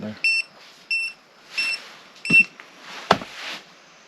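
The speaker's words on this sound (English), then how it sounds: "Now the front tire of the RV is beeping" Electronic warning beeps from an RV's front tire pressure monitor sound in short, evenly spaced chirps, several in a row, fairly faint and clear against quiet surroundings with a few brief knocks.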